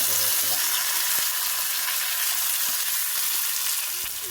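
Tomato and curry leaves frying in hot oil in a pan make a loud, dense, continuous sizzle up close, with a few faint knocks of a utensil.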